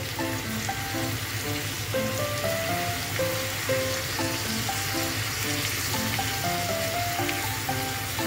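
Soy sauce hits a hot frying pan and crackles in a dense, steady sizzle that lasts the whole stretch, close and loud, with faint melodic tones underneath.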